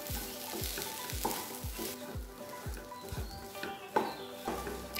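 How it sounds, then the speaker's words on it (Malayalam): Cooked green gram being stirred and fried in a pan for a Kerala-style cherupayar ularthu, with a steady sizzle and rhythmic scraping strokes of a spoon about twice a second, close and clear with no talking. "ഇനി ഇതിലേക്ക് നമുക്ക് നമ്മുടെ വേവിച്ച് വെച്ച പയറിട്ട് കൊടുക്കാം. എല്ലാം കൂടി നന്നായിട്ടൊന്ന് ഇളക്കി കൊടുക്കുക."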